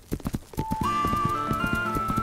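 Hooves of a horse clip-clop in a quick rhythm at the start, then carry on beneath a steady whistling tone, close and fairly loud.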